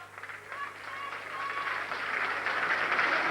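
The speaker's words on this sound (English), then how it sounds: "Big round of applause as Ian Breyer leaves the field." Crowd applause at the 1998 BNFL National Cup Final, Redhill v Ideal Isberg, as a player leaves the field, a broad steady patter of clapping from a distant stand that swells gradually and stays moderately loud.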